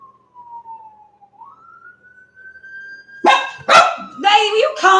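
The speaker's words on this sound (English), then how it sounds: "See, the female cockapoos, they like to bark." A siren wails steadily in the distance, then a small cockapoo dog barks several times nearby, loud and rapid.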